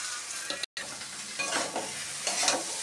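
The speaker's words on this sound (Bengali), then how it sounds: "এবার ভালো করে ডালের সাথে আমি শাপলাটাকে মিশিয়ে নেব।" Water lily stems stirred into lentils frying in oil make a soft, continuous sizzle with scraping spatula strokes, close and fairly quiet, broken by a brief dropout near the start.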